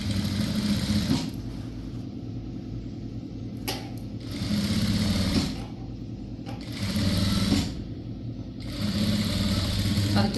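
A sewing machine stitches a box-pleated school uniform skirt pocket in short runs of whirring, pausing between bursts, with a person talking throughout.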